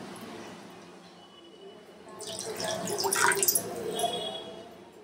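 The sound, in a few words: water being poured into a cooking pot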